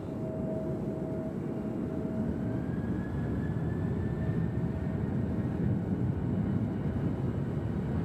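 A departing airliner climbs out from Nashville International Airport, a steady broad jet roar held at even loudness throughout, with a faint rising whine gliding above it and no voices.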